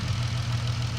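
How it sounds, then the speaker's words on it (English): A car engine idles steadily with a rapid, even ticking running through its low hum, a suspected knock or misfire in the motor; constant and close, with no talk. "I hear a tick, guys. It is ticking."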